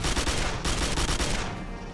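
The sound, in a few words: automatic gunfire in the video game Quake 4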